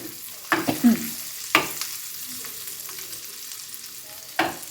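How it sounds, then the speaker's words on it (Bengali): Fish fat frying in oil in a pan gives a low, quiet sizzle broken by a few sharp spatters and clicks, three of them clearly standing out, with no talking. "এই তেলটাই শুধু লাস্ট ভাজা বাকি এটা একটু ভেজে"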